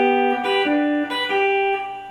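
A steel guitar plays a short lick of several plucked notes, bright and sustained, with distinct note changes and slides, heard alone.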